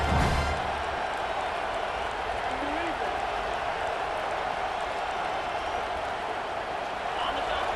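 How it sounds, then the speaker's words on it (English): Steady stadium crowd roar from a college football video game at Penn State, a dense continuous wash of cheering and noise throughout with no clear individual voices standing out. "This crowd trying to make life miserable for this offense."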